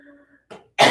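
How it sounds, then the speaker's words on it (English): A person coughs during a lion's breath yoga exercise, a faint breathy exhale followed by a short harsh cough burst, close and alone without talk. "You might cough."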